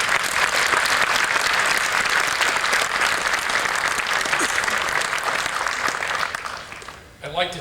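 Sustained loud audience applause at a 1995 Mortal Kombat launch event, dense clapping for several seconds before tapering off at the end.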